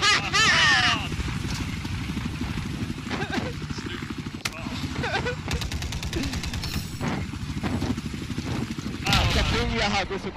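Steady rotor-like helicopter thrum in Battlefield 4 under gunfire bursts and game sound effects, with voices talking over it throughout.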